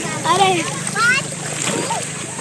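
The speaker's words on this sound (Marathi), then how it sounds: "सगळे असे उड्या बिड्या मारून पोहत आहेत" Splashing water in a Konkan stream with excited children's voices calling out over it as people jump in and swim, lively and close, in short bursts.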